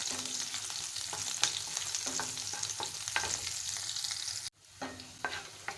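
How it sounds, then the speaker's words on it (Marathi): Whole green chillies roast in a pan over high gas with a steady crackling sizzle, broken by brief scraping stirs; the frying noise cuts out suddenly near the end, then resumes more softly. "मिरच्या व्यवस्थित भाजल्या गेल्या पाहिजे म्हणजे त्या तिखट लागत नाही गॅस मोठा करूनच भाजायचा"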